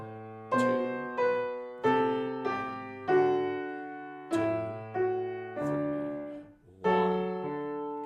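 A piano played with both hands together, low bass notes rocking under right-hand chords in a gentle, uneven rhythm with a brief pause near the end, soft and close with no talking.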